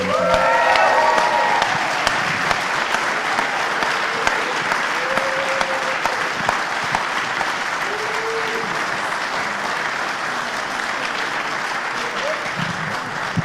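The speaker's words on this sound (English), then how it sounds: "can we just have a huge round of applause for these guys?" A large audience claps loudly and steadily after a debate, a dense wash of applause that slowly tapers, with a few faint voices and whoops mixed in.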